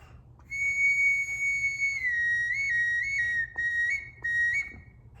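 A handmade sawgrass hawk and cardinal whistle is blown close by in long, clear held tones that wobble and step in pitch, broken by a few short pauses.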